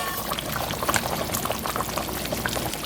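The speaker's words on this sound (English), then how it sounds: "So we'll go ahead and add in our white potatoes." White potatoes go into a bubbling pot of oxtail curry with gravy, a dense, steady splashing and bubbling sizzle, close and fairly loud.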